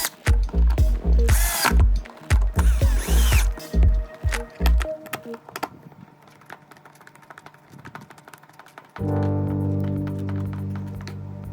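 Hand tools work on the throttle bodies of a crashed Kawasaki ZX6RR motorcycle during reassembly: a close run of rapid ratchet clicking bursts, then scattered metallic taps and rattles, and finally a steady mechanical power-tool whir.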